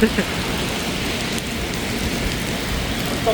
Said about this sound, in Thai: ว้าฝนตกร้อยเปอร์เซ็นต์ตก